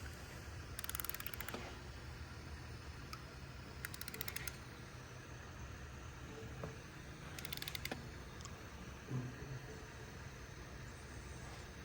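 Torque wrench set to 35 tightening Teflon-coated bolts on the lower intake plenum of a 1985 Chevrolet Corvette, giving a few faint, brief mechanical clicks and ratchet sounds over low shop background noise.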